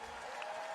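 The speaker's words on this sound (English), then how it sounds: "Let's give another round of applause for our selection committee." A brief burst of steady applause from the audience at the Miss Universe 2020 preliminary competition, faint and distant, with a thin tonal hum underneath.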